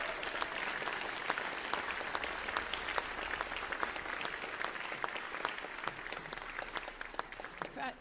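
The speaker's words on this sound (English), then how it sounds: "So for me, this is a standing ovation." Steady applause from a standing audience at a school band spring concert, many hands clapping in a dense, continuous patter that holds at an even level throughout, with faint murmurs beneath.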